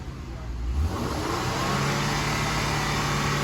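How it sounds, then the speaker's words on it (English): A 1999 Acura TL engine rises into a rev and holds at a high, steady roar, loud and close, with no talking. "And if Colin revs it up and holds it"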